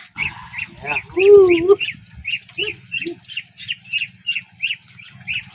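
Domestic ducks in a rural Sundanese setting quack in a steady series of short, repeated calls, close and clear, with one louder drawn-out honk early on and a low background hum.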